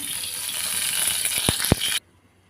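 Garlic tipped into hot oil in a frying pan sizzles steadily, with a few sharp clinks of a utensil near the end before the sound cuts off abruptly.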